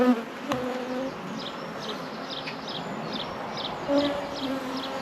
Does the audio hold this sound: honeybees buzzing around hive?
yes